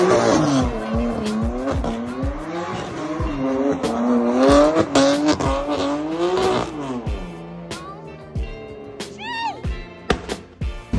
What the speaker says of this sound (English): let's try to do a donut real quick for him